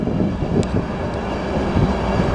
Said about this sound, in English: Transport for Wales local border trains.